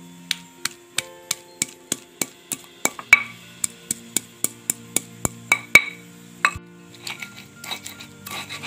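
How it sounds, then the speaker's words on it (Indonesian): A stone mortar pounds coriander with kencur, galangal and other spices in steady, evenly spaced thuds, about three per second, that stay close and sharp before giving way to looser, irregular knocks near the end. "Ketumbar kita ulek, bumbu-bumbunya kita ulek"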